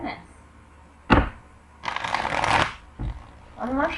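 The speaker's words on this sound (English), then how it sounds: "One more shuffle, just for you." Tarot cards being shuffled by hand in bursts of riffling and snapping, close and fairly loud, with brief pauses between.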